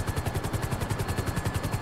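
Rapid automatic gunfire aimed at a police helicopter in GTA 5, a fast, even string of shots layered over the helicopter's pulsing rotor drone, close and continuous with no speech.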